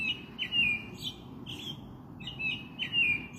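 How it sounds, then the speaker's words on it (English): Birds chirp at night in short, repeated high tweets, fairly close, over a low steady background rumble, with no voices. "Birds are chirping all night, all the time now."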